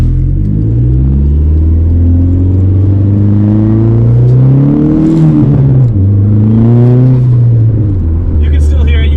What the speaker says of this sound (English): Might be able to give it a little gas off this stop sign.